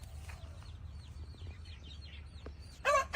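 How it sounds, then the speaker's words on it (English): Roosters and chickens cluck softly nearby in a run of short repeated calls over a low rumbling background, ending with a louder, harsher squawk. "we have roosters and chickens right next to this"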